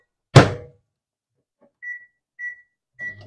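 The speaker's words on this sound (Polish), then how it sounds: "250 W w mikrofale." A microwave oven set to 250 W to heat milk in a glass: a loud door thunk, then three short electronic beeps as the buttons are pressed, close by in an otherwise quiet kitchen.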